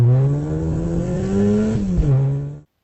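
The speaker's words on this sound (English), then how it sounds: "started the car, and took off" A car engine revs loudly and close by, its pitch climbing as the car accelerates away, then the sound cuts off abruptly; no voices.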